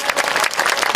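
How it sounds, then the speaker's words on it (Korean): A burst of warm applause from an audience at an award presentation during a city day opening ceremony in Icheon, South Korea, dense clapping filling the room. "뜨거운 박수로 함께 축하해 주십시오"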